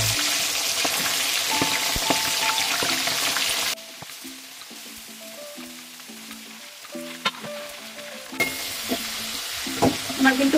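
Marinated chicken (desi hen) coated with turmeric, salt and oil sizzles in a pan, a loud broad frying hiss that suddenly drops to a quieter simmer for a few seconds before the sizzle swells back, with faint clinks over it.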